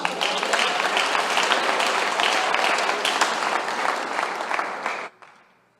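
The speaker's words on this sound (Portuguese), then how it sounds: "Aplauda o Senhor Jesus." A church congregation bursts into loud, dense applause at an evangelical service, a steady wash of many hands clapping that cuts off abruptly near the end, leaving a short fading tail.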